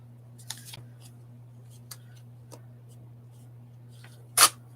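Scissors snipping a small picture out of a magazine page, a few faint, sparse cuts over a steady low hum, ending with one louder crisp snip.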